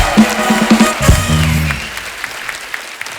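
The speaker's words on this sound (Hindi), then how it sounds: "तो एक बार जोरदार तालियां हमारे मेहमानों के लिए" Studio audience on a comedy talk show breaks into loud applause for arriving guests, a dense burst of clapping that swells then thins out, with a brief musical sting and voice at the start.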